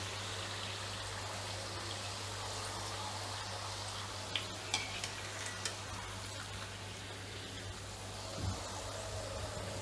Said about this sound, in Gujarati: આપણે ગોલ્ડન બ્રાઉન થાય ને એવા તળવાના છે